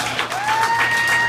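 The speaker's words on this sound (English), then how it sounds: "give Mr. Raymond Gilead a round of applause." An audience applauds Raymond Gilead at a rally, a brief burst of dense clapping that comes through loud and close, with a faint steady tone running underneath.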